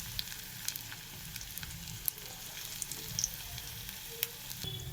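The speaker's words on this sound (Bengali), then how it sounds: "একবারে বসিয়ে দেওয়া হলো ভাজা" Capsicum fritters frying in a pan of oil give a steady close sizzle with faint crackles and a few sharp pops, heard alone.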